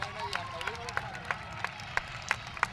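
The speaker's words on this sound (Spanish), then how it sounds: "un fuerte aplauso para ellos." Crowd at a Spanish youth football club's season presentation applauding the coaching staff, with sharp claps cutting through a murmuring hall and voices chattering underneath.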